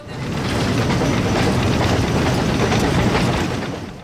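A heritage train on the narrow-gauge Gulbene–Aluksne railway in Latvia rolls past close by, a steady broadband rumble with faint rail clatter that swells and fades slightly over a few seconds, no voices.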